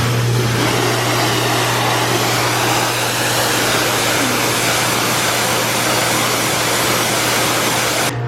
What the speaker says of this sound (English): You get the pressure washer just the right distance away and you just do a little pass over it and it comes perfectly clean.